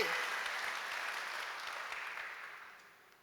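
A church congregation applauds in a broad, sustained burst of clapping that gradually fades, heard from a distance with no speech over it.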